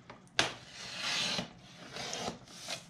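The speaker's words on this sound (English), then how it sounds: "I'm basically trimming this down to 4 by 6" Paper being trimmed to size for a Dollar Tree frame craft, heard as a sharp snip followed by a few close, quiet rasping cutting strokes.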